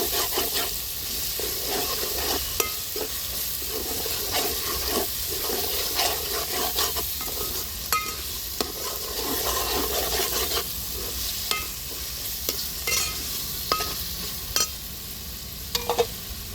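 Mushrooms frying with a ginger, coriander seed and poppy seed masala paste, a continuous loud sizzle broken by repeated scrapes and clicks of stirring, close up with no voices.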